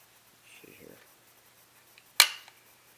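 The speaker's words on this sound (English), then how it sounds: "And it should click into position" A Versamax part snaps into place with one sharp click after a short low shuffle of handling, close and alone.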